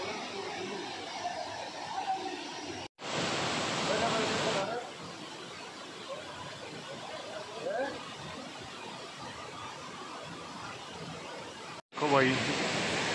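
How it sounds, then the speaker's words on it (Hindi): A waterfall at Mukteshwar Dhaam in Uttarakhand roars as a steady, dense, broad rush of falling water, loud and close, holding unbroken except for two brief cuts. "देखो भाई ये है वो झरना।"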